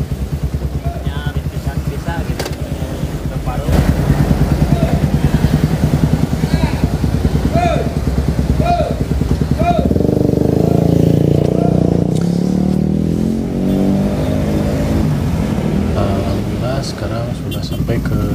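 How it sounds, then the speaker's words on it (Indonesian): Suzuki Satria FU motorcycle with a tuned carburetor and aftermarket exhaust, its engine running with a steady low throbbing exhaust note that swells louder midway as it is revved, close and continuous. "kita dengarkan suara mesin dan knalpotnya"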